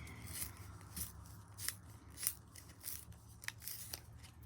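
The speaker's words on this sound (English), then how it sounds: "Sharpen the pencil." A colored pencil is sharpened by hand in a series of short, crisp scraping strokes, about eight quick bursts at an uneven rhythm, close and quiet with no talk.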